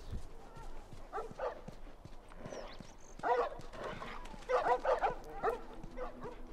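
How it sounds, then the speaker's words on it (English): Dogs barking in The Last of Us video game, several short yips and barks in bursts over a low game ambience, with a voice briefly audible. "Doggies."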